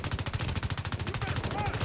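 Rapid automatic gunfire rattles off in the survival video game SCUM, a loud, tight burst of evenly spaced shots running continuously for about two seconds.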